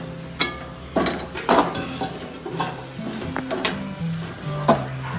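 Chopped tomatoes go into frying biryani masala with chili powder and are stirred, bringing sharp scraping spoon strokes against the pan over a steady sizzle, close and repeated at an irregular pace.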